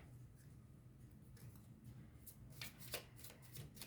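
A tarot deck being cut and handled, soft papery riffles and light card snaps, faint at first and growing into a few crisp flicks near the end, close up with no talking.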